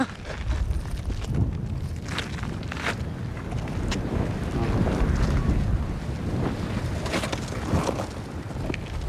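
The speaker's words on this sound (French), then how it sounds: "C'est froid, il y a du vent." Gusty, cold wind buffets the microphone with a low roar that rises and falls, mixed with faint water sounds in the background, in the volcanic Horn of Africa.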